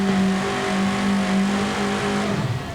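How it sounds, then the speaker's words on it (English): Engine of a 4WD pulling truck with a 180-degree crank at a 1991 truck pull in Owensboro, Kentucky, revving hard and held at a loud, steady, throaty high pitch throughout. "the sound I was talking about is from a 180-degree crank"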